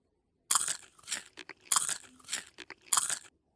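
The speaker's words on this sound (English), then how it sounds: "So when you chew, if you chew like this," Person chewing food with an exaggerated jaw motion, producing close, crisp crunching bites in a regular rhythm of about five or six chews, each a sharp burst followed by softer mastication, with no talking.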